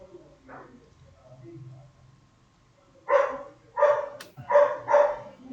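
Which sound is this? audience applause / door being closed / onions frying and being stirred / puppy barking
puppy barking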